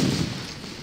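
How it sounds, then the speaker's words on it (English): Artillery fire in the Napoleonic battle game Scourge of War: Waterloo: a single heavy boom that rolls out and fades over about a second, moderately loud and with no voice over it. "Oh, nasty artillery fire."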